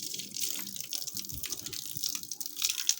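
Water runs steadily from a tap as a baby's feet are washed, with a close, hissing splash and a few light knocks, with no talk over it.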